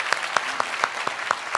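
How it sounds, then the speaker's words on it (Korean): A church congregation at a Sunday worship service claps in a brief, even rhythm of about seven sharp beats, heard alone and moderately loud. "우리 박수로 환영해 주시기 바랍니다."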